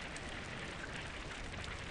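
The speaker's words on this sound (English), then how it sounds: "Does that sound like rain to you guys?" Continuous video game rain ambience in a mining and crafting game, a dense and even hiss of pattering raindrops heard alone at moderate level throughout.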